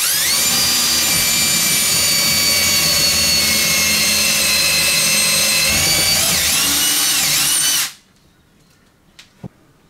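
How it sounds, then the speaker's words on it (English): A high-pitched power drill whines steadily for several seconds, boring pilot holes into a wall for a coach bolt, pitch wavering slightly, then stops abruptly, followed by faint clicks. "I then drill the pilot holes for the coach bolt."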